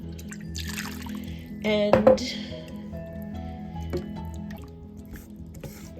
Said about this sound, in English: And now I'm going to add my liquid from my mushrooms back in and some broth as well.